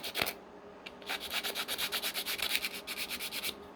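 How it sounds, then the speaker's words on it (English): A sanding stick is rubbed along flat plastic parts of a Johnny 5 toy-version model kit, giving a steady run of rhythmic scratchy strokes, close and fairly loud, with no talking. "So you just get your sanding stick in there, run that nice straight down there and straight down there."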